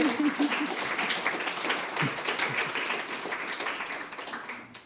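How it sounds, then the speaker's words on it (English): An audience at a public safety and elections event run by a civil liberties group applauds with a sustained wash of clapping, moderately near, gradually fading over a few seconds. "You can go ahead and clap for all of that if you like."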